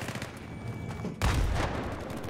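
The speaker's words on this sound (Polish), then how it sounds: "Ale strzelają do mnie." Gunfire in Battlefield 3: a sudden burst of booming shots starts midway and continues as dense rumbling fire over a steady background of game noise.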